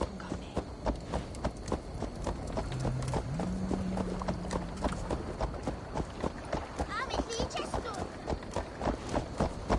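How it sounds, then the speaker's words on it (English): A horse gallops in the video game Assassin's Creed Valhalla, its hooves beating a fast, steady clip-clop throughout, close and prominent, while a voice shouts and a brief whinny-like tone rises midway. "Stop that horse!"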